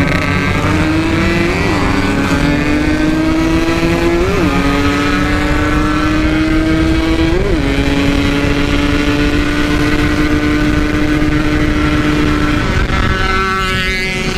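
A Yamaha RX King two-stroke motorcycle on a night ride roars loud and close, its engine pitch climbing in long pulls with brief dips at gear shifts, a continuous raspy drone with no voices.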